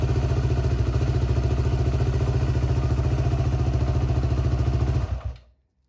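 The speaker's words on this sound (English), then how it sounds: "then I'll start the bike and let it warm up" A Yamaha WR250R motorcycle engine idles nearby with a steady rapid thumping, running evenly for about five seconds before it is shut off and dies away into silence.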